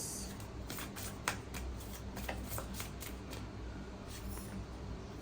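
Tarot cards being shuffled and drawn from the deck, a continuous close riffling and flicking of cards with a few sharper snaps, under a faint background hum.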